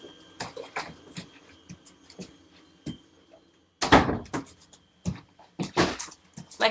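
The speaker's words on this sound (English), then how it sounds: "let me close that door" An indoor door is pushed shut in a craft room, giving a loud close with a bump and rattle near the middle, set among softer handling knocks and shuffling nearby.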